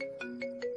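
A phone ringtone plays quietly with no one answering, a repeating melodic electronic tone pulsing in quick, even beats, alone and somewhat distant.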